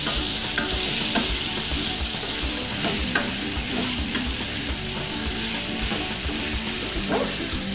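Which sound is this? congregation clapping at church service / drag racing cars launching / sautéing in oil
sautéing in oil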